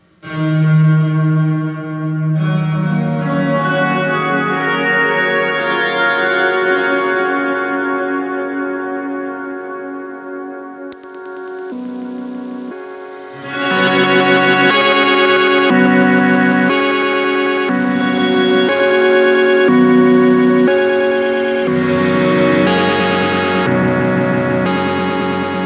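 Sustained electric guitar chords wash through heavy, shimmering reverb modulated by a Swampwitch Season of the Witch pedal that warbles and swells, then a brighter passage of notes rings out with lush modulated echoes.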